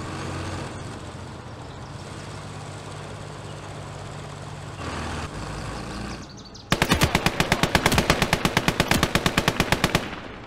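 Gunfire in the World War II strategy game Call to Arms: Gates of Hell, with an engine rumbling for several seconds before a loud, rapid burst of machine-gun fire that runs steadily for about three seconds.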